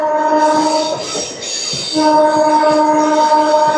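A MEMU train at Vijayawada station bound for Machilipatnam sounds a sustained, loud, tonal horn or wheel squeal. It dips briefly mid-way, then resumes over a rumbling rail background, with no speech.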